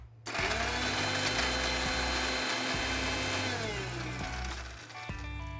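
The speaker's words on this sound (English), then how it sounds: "To this, we're going to add 2 red chilies and 4 green chilies. Now grind this again." A blender grinds red and green chilies into a coarse paste, a loud continuous motor whir with shifting pitch that runs steadily for several seconds before slowing and restarting briefly near the end.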